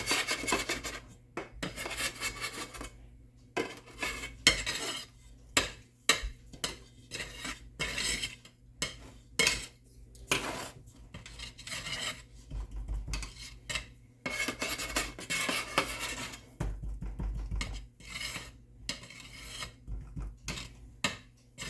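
A metal bowl pressed and turned over warm bajra flour sukhadi on a plate, giving repeated close rasping rubs and scraping strokes in uneven bursts with short pauses, no voices.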